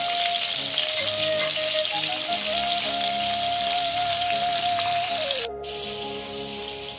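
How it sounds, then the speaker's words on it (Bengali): Salted pointed gourd (potol) fries in a wok with a steady, close, dense sizzle and crackle that runs the whole time, with a faint steady tone underneath and no voices. "পটল কড়াইয়ে ভাজা হোক"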